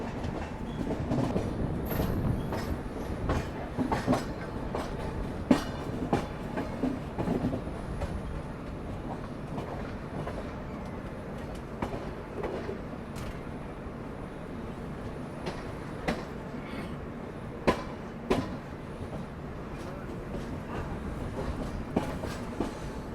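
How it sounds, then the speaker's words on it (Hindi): Ahmedabad–Mumbai double-decker express train rolling into Mumbai Central station, a steady loud rumble with clickety-clack of wheels over rail joints and occasional squeals and clanks, heard from inside the coach. "डबल डेकर एक्सप्रेस एंटर कर रही है मुंबई सेंट्रल में।"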